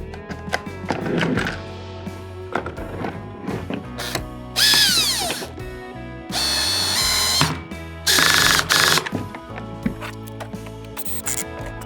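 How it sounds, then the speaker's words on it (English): A power drill at low speed whirs in several bursts of varying length while installing a Power-Pole Micro Anchor on a Hobie Pro Angler kayak, with ratcheting clicks and clunks of handling between runs. "So I'm going to turn the drill on to low speed."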